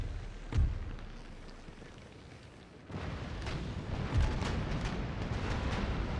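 Naval cannons in Empire Total War fire two heavy, booming shots several seconds apart, one early and one later, each rolling out over a continuous rumble of battle ambience.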